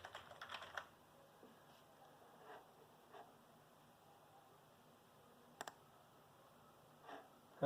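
Sparse typing on a computer keyboard while setting up Windows on an Atari VCS, faint scattered key taps in a small burst at the start and then a few isolated presses in a quiet room.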